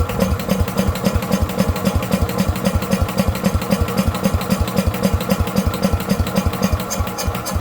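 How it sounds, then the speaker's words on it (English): A Case tractor engine cranks over with the throttle wide open on a new battery, a fast, steady, even chugging rhythm heard close up and alone. "So let's keep winding on it and run this new battery down."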